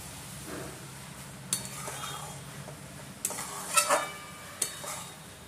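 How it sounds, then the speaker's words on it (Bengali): Garam masala being stirred into prawn pulao in a cooking pot, a few sharp clinks of a spoon scraping the metal rim standing out over a soft background, with no talking. "এটা ভালো করে মিক্স করে দেবো গরম মশলাটাকে।"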